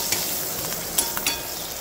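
Spices for a traditional Andhra wood apple chutney tempering crackle and sizzle in a hot pan, a steady frying hiss broken by a few sharp pops and brief stirring scrapes, close and alone.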